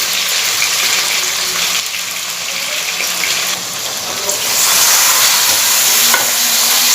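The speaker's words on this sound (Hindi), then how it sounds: "इसको हम भुनेंगे तो इसी के साथ ये थोड़े से सॉफ्ट हो जाएंगे।" Potatoes frying in a pan for a Bihari-style aloo baingan bhujia, a steady loud sizzle with scraping and stirring throughout, swelling louder near the end.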